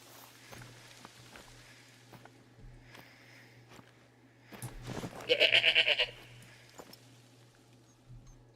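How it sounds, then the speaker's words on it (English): A goat bleats in the hunting game theHunter: Call of the Wild, a short rising cry from just over a ridge, moderately loud and briefly wavering, over a low steady background hum. "that goat's just up there, on the ridge, just over it"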